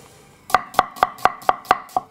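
Seven evenly spaced, crisp knife strokes chop an onion on a cutting board in a home kitchen, each a sharp close thud about a quarter second apart.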